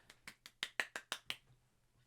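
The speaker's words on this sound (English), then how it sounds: "I was just clapping in the distance." Hand clapping at a distance from the microphone: about eight sharp, evenly spaced claps over a low hum, faint and roomy, with no talk.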